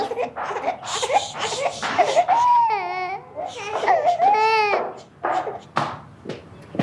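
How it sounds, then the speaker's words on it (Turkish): An infant wails in repeated, rising cries, with adult voices talking over and between them. "bu bebek neden ağlıyor"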